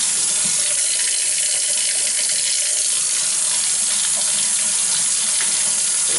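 Water drains from a tank through a hose in a commercial building with a constant, loud, hissing rush that stays even from start to finish.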